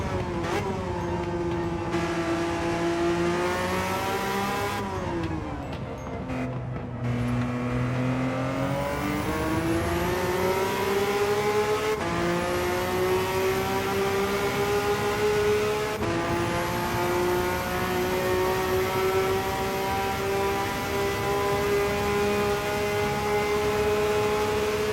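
Nissan R31 Skyline engine in Gran Turismo 7, upgraded, revving loudly and close, climbing through the gears with rising pitch sweeps, a brief dip and shifts, then a sustained high wail.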